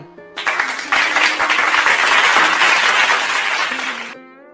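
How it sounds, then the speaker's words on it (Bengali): A stage audience bursts into sustained clapping to welcome a local community leader as a guest, loud and dense for about four seconds before tapering off, with a few short voice sounds at the edges. "আমরা সবাই করতালির মাধ্যমে তোতা ভাইকে মঞ্চে আসার আহ্বান জানাই"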